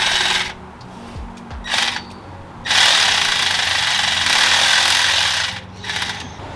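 A bolt on the alternator of a Toyota 60 Series Land Cruiser with a 2H engine is tightened, heard as short bursts of rapid ratcheting and whirring tool noise close by, separated by quieter pauses over a steady low hum.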